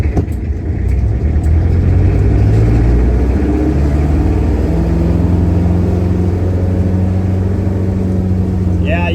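A 1959 Plymouth taxi with a Perkins diesel engine cruises on a highway, its loud, steady mid-pitched drone and rumble filling the cabin as the engine climbs then levels off against the governor, with a voice speaking over it.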